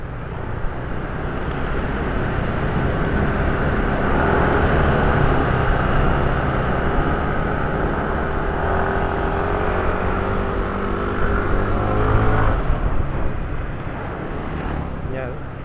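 A rough-running motorcycle engine idling nearby, giving a steady, coarse rumble that goes on throughout.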